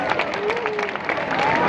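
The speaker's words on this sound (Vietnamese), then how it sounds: "Nếu đồng ý chơi thì chúng ta nổ một tràng pháo tay thật lớn ạ." Students applaud in a high school hall during a breakfast-prize guessing game hosted by the principal. Dense, steady clapping runs through the whole short stretch, with a faint tonal whistle or voice above it.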